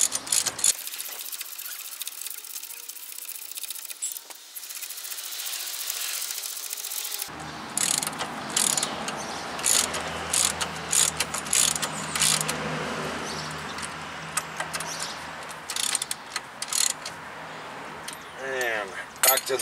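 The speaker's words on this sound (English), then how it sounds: "go ahead and tighten down that bracket bolt" A ratchet wrench tightening a front brake bracket bolt on a 2007 Nissan Altima: a quiet start, then close, rapid ratcheting clicks in repeated bursts with some metallic rattling.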